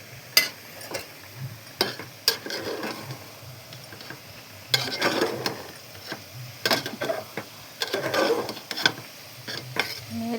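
Egg curry masala with salt, turmeric, garam masala and meat masala cooking in oil, a low background sizzle broken by repeated scraping stirs of a spoon against the pan, irregular and fairly close.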